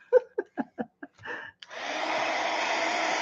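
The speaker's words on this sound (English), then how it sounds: "let me heat dry this one just because I've been wanting to use my little machine" A small handheld heat tool starts up after a few soft taps and breaths, then blows a steady, even whooshing hum while drying a craft piece at close range.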